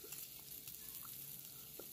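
Butter and khoa frying with onion and tomato in a pan over a medium gas flame at a dhaba, giving a steady, quiet sizzle with a few soft stirring taps and no talk.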